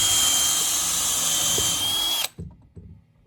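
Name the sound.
drilling holes in Adirondack chair kit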